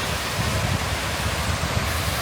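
Water falling over a dam in a Brazilian mountain town gives a steady, loud, broadband rush with no breaks or voices.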